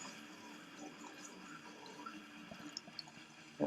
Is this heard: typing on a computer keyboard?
no